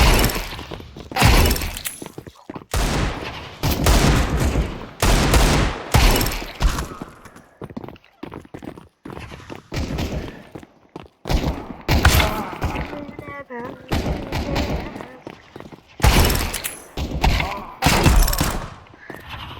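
Gunfire from shooting an enemy in the Counter-Strike 2 video game cracks out in repeated sharp bursts and volleys, close and loud, with a voice talking between the shots.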